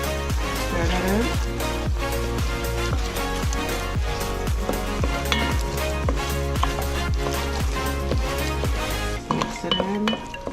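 Tomato paste stirred into sizzling vegetables in a pan for a Spanish-style beef stew, a spoon clinking rhythmically against the pan in quick repeated strokes, close and bright over a soft frying hiss.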